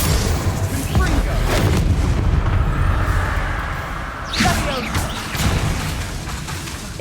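Confringo fire spells blasting in the Hogwarts Legacy video game inside the Feldcroft Catacomb, loud booming impacts and whooshing bursts over a dense rumbling battle din, with a voice shouting spell names throughout.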